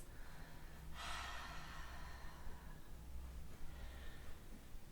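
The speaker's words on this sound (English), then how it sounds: "Maybe taking a few open mouth exhales." A single soft, open-mouthed exhale during an evening yoga practice breathes out close and faint, with a second, lighter breath following.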